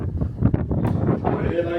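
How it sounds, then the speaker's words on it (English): Steady wind buffets and rumbles across the microphone on the deck of the P&O cruise ship Iona in the Bay of Biscay, with gusty low roaring throughout and a faint tone creeping in near the end. "it's very windy"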